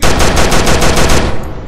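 A loud, rapid burst of machine-gun fire from a gun in a Skibidi Toilet horror game, evenly spaced shots for over a second before cutting off into a fading tail.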